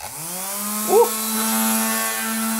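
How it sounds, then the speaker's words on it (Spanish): An electric sander powered from a BLUETTI AC200P lithium battery in a camper van spins up and holds a steady, loud hum, with a brief voice near the start. "Vamos primero con la lijadora."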